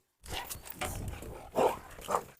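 A Cane Corso dog at play gives gruff, rough growls and short throaty barks, close and moderately loud, in several bursts over a couple of seconds with no speech.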